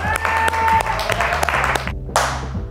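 A small group claps for Juliette after her Olympiades challenge, brief uneven hand claps mixed with voices and a short ringing tone.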